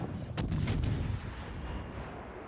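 Incoming naval gunfire in World of Warships, the Yubari cruiser under fire: two sharp booming shell impacts close together, with a low rumbling roll that fades into steady background noise.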